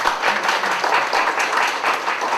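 Audience applause welcoming a speaker to the stage at a startup funding talk hosted by a patent filing cooperative; steady, dense clapping from a crowd throughout, with no voices.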